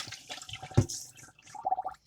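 Salted rinse water from soaking onions is poured out into a sink in a short splashing burst, a brief gush followed by a few lighter trickles and drips, close by.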